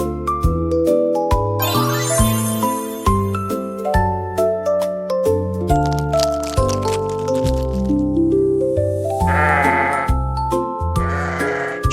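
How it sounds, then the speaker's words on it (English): Sheep bleating in a cartoon farm-animal scene, several wavering bleats over bouncy music with tinkling chimes and dings. "Sheep."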